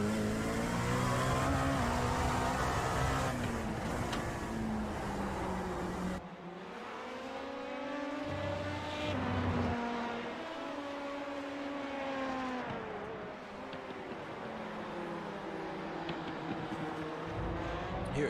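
LMP2 prototype and GTE race cars lap Indianapolis Motor Speedway in iRacing, with a loud engine whine rising and falling through gear changes, then several cars passing in traffic with overlapping engine tones.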